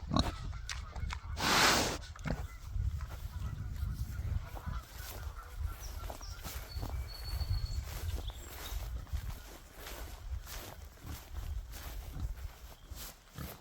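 Faint pig grunts and snuffles mix with goose honks and other farmyard noise, and a person speaks softly now and then.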